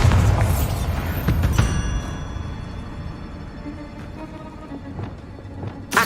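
Bombarda explosion spell in Hogwarts Legacy, a loud boom at the start with sharp bursts that decay into a fading rumble and scattered pops.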